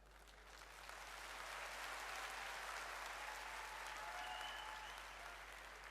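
Audience applause, a steady wash of clapping hands that swells and holds for several seconds, moderately distant and fairly soft.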